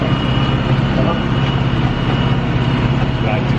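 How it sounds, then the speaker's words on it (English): A lawn tractor engine drones steadily and loudly up close with a rough, low-pitched running rumble that holds even throughout, while a voice speaks over it. "Like this tractor, don't you?"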